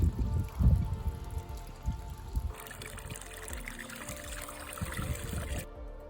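A cold stream beside an old willow tree in the Kazakhstan desert trickles and pours steadily, with close, uneven splashing and gurgling that continues throughout.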